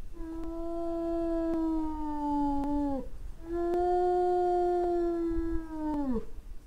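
A wolf howling in two long, sustained, slightly falling calls, each lasting about three seconds with a brief pause between, clear and prominent with no talking.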